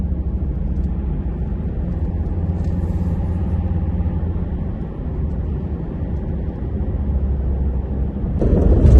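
Steady low road rumble from a car driving along a road toward the French border, continuous engine and tyre drone, swelling louder at the end, with no talking.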